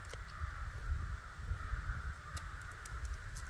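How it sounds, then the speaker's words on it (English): Crows cawing outdoors at an archery range, a faint, steady chorus of distant calls over wind and low rumble, with no voices. "Ooh, the crows are wound up over it."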